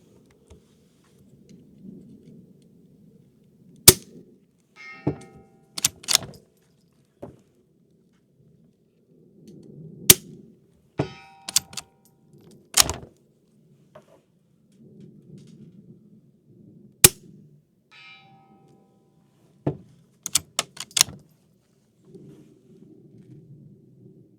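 A string of sharp, muffled cracks, about a dozen .22 shots fired through a 3D-printed suppressor at irregular intervals, over a low steady rumble of outdoor background noise.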